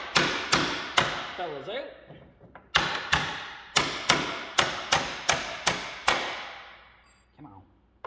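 A hammer knocks parts off a jacked-up 2003 Ford F7 truck in about a dozen loud, sharp metal strikes. Each blow rings out briefly, spaced roughly half a second apart with short pauses, and a few words are spoken.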